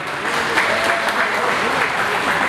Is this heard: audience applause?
yes